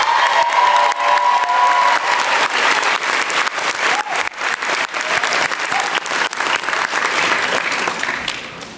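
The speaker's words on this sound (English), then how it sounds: "Let's also give them a round of applause," Loud, sustained applause fills a hall at a university master's commencement ceremony, crowd clapping honoring families and mentors with occasional cheers mixed in, swelling early then gradually tapering off near the end.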